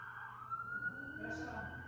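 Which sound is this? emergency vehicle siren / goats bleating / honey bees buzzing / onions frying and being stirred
emergency vehicle siren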